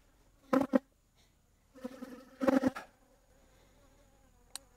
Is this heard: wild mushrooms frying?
no